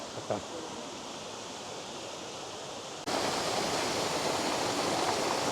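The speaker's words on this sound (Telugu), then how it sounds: "ఇది వచ్చేసి ఫస్ట్ స్టెప్ వాటర్ ఫాల్స్" A Black Forest waterfall in Germany roars with a steady broadband rush that surges noticeably louder and brighter partway through, a continuous close wash of falling water with no voices.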